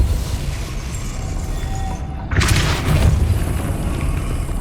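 A Depulso spell cast in Hogwarts Legacy on PS5 lands as a sudden booming burst halfway through, rising out of a steady ambient bed and trailing into a rumbling, crackling tail.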